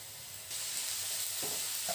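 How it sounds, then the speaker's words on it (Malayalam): Ginger, garlic and green chilli sauté in hot oil in a pan, a steady close sizzle rising partway through with light scraping stirs, no voices. "ഇനി നമുക്കിതൊന്ന് നന്നായി വഴറ്റിയെടുക്കാം."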